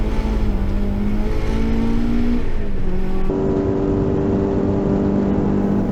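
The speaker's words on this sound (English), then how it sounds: "was pushing hard in the Turbo MX-5." A turbocharged Mazda MX-5 race car at Hampton Downs circuit drones loudly and steadily, its engine pitch climbing, dropping at a shift, then rising again at close range.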